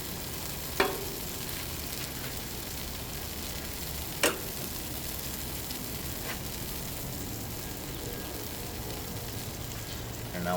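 Cherry tomatoes sizzle on a Blackstone griddle with a steady, fairly quiet hiss, broken by a couple of sharp clicks and taps.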